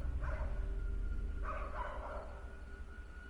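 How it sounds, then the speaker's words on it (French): Neighbours' dogs bark at a distance at night, two short bursts of barking carried over a low, steady background rumble. "Les chiens de mes voisins ont commencé à aboyer,"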